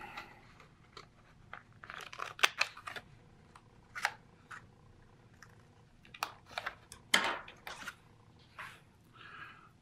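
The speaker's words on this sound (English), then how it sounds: "I'm gonna cut out my decal." Tamiya decal scissors cutting out a waterslide decal make quiet, irregular snips and crisp clicks, close up, in scattered bursts with short pauses between them.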